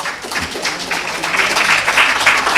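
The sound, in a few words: audience applause for quiz team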